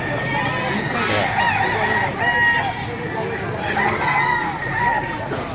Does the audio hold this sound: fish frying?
no